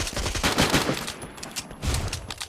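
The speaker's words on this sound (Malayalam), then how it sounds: "സ്നൈപ്പർ കൊണ്ട് അവിടുന്ന് അടിച്ചിടാൻ പോവാണ്" Rapid gunfire rattles through a shooting video game, dense overlapping bursts of shots close and loud, easing briefly in the middle before another volley.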